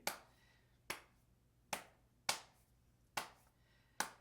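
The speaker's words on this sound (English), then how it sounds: "So again, that being able to clap that as well." Sharp, close hand claps land one at a time in a 3-3-2 rhythm, seven crisp strikes spaced unevenly across a few quiet seconds with no other sound.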